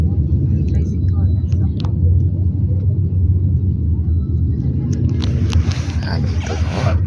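A motor tricycle rumbles along a road in Roxas City, Capiz, its low engine drone steady and close throughout, with some brighter traffic noise creeping in near the end.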